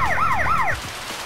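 A wailing emergency-vehicle siren from the video game Emergency 4 rises and falls in two quick sweeps, loud and close, then cuts off abruptly into quiet background.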